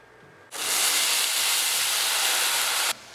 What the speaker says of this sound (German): So, jetzt löschen wir es mit Portwein ab.